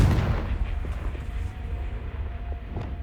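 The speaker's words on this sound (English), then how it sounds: "Confringo!" A Confringo fire spell detonates in Hogwarts Legacy, a booming blast with a heavy low rumble that rolls and fades over a few seconds, with faint crackling impacts scattered through the tail.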